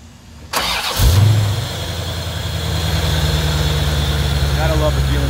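A fuel-injected engine in a 1937 Ford convertible cranks briefly and catches, then settles into a steady, loud idle with a deep low rumble that holds to the end; faint voices come in near the close.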